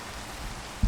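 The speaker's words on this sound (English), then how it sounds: "It is raining." Steady rainfall in the video game Minecraft, a soft even hiss of drops on surfaces, fairly quiet and continuous, ending with a brief low thump.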